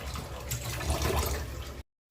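Kitchen utensils and pots are rinsed under a steady stream of running tap water, a loud, continuous splashing that stops abruptly near the end.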